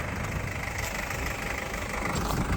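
A 2020 Mercedes Sprinter 316 Long with a 2.2 diesel engine idles close by, a steady low rumbling chug with even texture and no voices over it.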